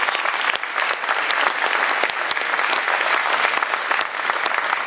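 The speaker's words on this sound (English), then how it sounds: "How about a round of applause for the Cleveland Orchestra?" Loud, sustained applause from a large crowd at a civic event in Cleveland, saluting the Cleveland Orchestra; dense, steady clapping fills the space without pause.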